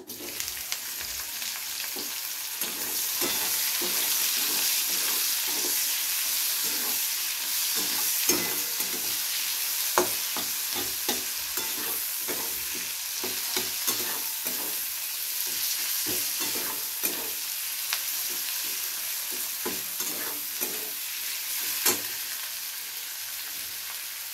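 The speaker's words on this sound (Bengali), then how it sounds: "পেঁয়াজটাকে আমাদের হালকা বাদামি করে ভেজে নিতে হবে।" Chopped onions fry in hot oil in a pan for Bengali fish kalia, a steady bright sizzle throughout with repeated scraping taps of a spatula stirring them, close and without talk.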